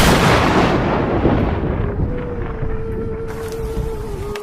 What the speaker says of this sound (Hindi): तभी अचानक से तेज बारिश और तूफान शुरू हो जाते हैं।